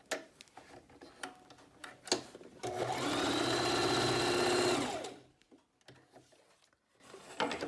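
A sewing machine runs in one steady burst of about two seconds, stitching down the pleats of a fabric mask, with quieter handling clicks before and after.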